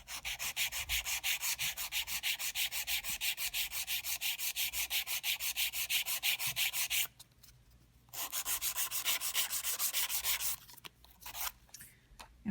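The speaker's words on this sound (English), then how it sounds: "So let's go over how to file this and shape this properly." A nail file shapes a sculpted gel stiletto nail with quick, even back-and-forth strokes. The close, rhythmic rasping pauses for about a second, resumes, then breaks into a few uneven strokes at the end.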